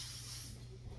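A spray bottle misting bread pans for cranberry, orange and zucchini bread, one short soft hiss that fades after about half a second, quiet and close with no talking.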